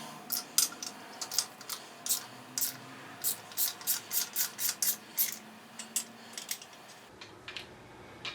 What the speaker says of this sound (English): That's why I'm using a stubby ratchet here.